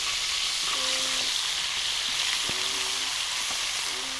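Potatoes fry on a sadzh griddle with a steady, close hiss and crackle, broken by a few soft knocks and scrapes.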